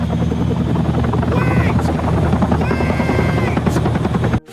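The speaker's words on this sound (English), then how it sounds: "the chopper loses control and crashes right in front of him" A helicopter from the video game Still Wakes the Deep loses control, its loud, close rotor chop and engine whine churning steadily, while someone shouts briefly over it before the noise cuts off abruptly.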